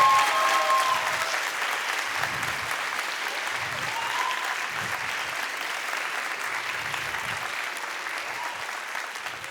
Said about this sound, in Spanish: me encantaría si le pudiéramos dar un aplauso